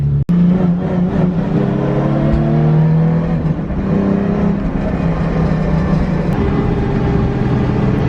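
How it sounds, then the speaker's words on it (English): A Z car's engine runs loud and close as it pulls into a garage, with a steady droning idle rising into short revs and shifting engine tones throughout, no talking over it. "Now I'm gonna pull in the Z."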